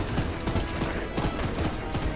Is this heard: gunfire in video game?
yes